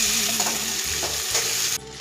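Curry leaves, chopped onion, tomato and chillies sizzle loudly and continuously in a pan while being stirred together, with a steady close hiss that drops off sharply near the end.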